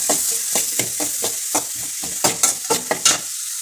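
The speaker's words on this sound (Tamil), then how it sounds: "இஞ்சியை வறுக்கிறதுக்காக எண்ணெயில் இஞ்சியை சேர்த்துருக்கோம்." Ginger sizzles loudly in hot cold-pressed coconut oil in a pan, with a continuous crackle broken by rhythmic scraping stir strokes close up.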